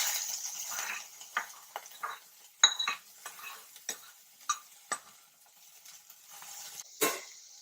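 Finely chopped big onions cooking in a pan with bay leaf and fennel seed, a quiet sizzle broken by repeated sharp scrapes and knocks of a spoon stirring against the pan.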